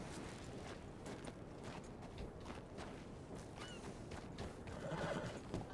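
A horse whinnies in Red Dead Redemption 2 amid steady clip-clop hoofbeats, with a louder, closer neigh near the end over continuous game ambience.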